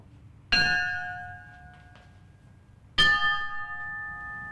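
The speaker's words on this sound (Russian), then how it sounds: "Так звучат колокола с охранным звуком" Two 19th-century Siberian bells with their original tone intact are each struck once. Each blow gives a loud, bright onset, then a long, sustained tone that decays slowly. The second strike comes about two and a half seconds after the first.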